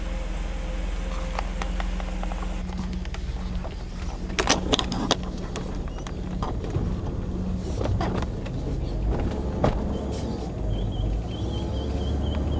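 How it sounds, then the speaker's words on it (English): Mercedes-Benz 300E on a cold start being driven, a steady low engine drone throughout with scattered clicks and rattles from inside the cabin. "But first I'll just take it for a little drive and see how flat the accelerator is"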